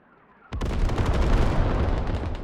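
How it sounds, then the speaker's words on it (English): Artillery shells landing in a forest during a video game battle between the US 10th Mountain Division and Russian airborne forces: a sudden loud blast, then a sustained rumbling roar of impacts and debris. "Artillery landing right in the middle of the forest"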